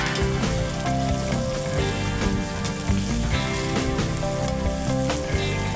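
Loud continuous sizzling of shallots frying in a hot pan for Chintamani chicken, with occasional stirring clatter, close and steady throughout.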